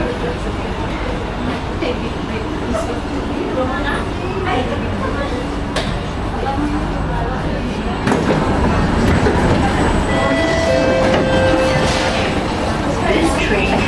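An SMRT C151A train on the Singapore MRT between Raffles Place and Dhoby Ghaut, heard from inside as a steady, loud rumble with rising electric motor whine toward the end.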